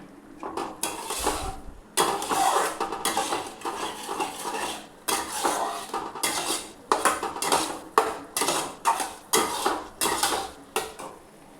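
Spice paste with onion and garlic being stir-fried in a pot for dry aloo dum, with a ladle repeatedly scraping and clanking against the metal in a steady, close rhythm.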